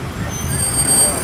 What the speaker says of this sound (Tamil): சரியான டிராஃபிக்காக இருக்குங்க கோயம்புத்தூருக்குள்ள.